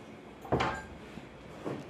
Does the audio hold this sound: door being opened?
yes